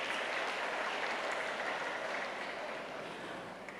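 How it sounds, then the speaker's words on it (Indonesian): Audience applause at a farewell ceremony honoring missionary priests, steady dense clapping from a crowd that holds throughout and tapers slightly at the end, with no talking. "Kita tepuk tangan dulu kepada para imam MSC kita."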